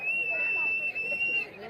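At a wrestling bout for the Sangli Kesari title, a spectator lets out one long, shrill, steady whistle over a low crowd murmur.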